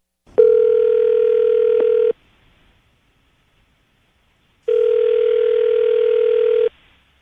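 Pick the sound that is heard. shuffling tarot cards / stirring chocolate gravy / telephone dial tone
telephone dial tone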